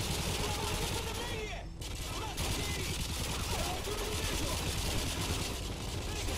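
Dense gunfire from the video game Call of Duty: Modern Warfare 3 runs as a loud, continuous barrage of rapid shots, mixed with game noise and a voice talking over it.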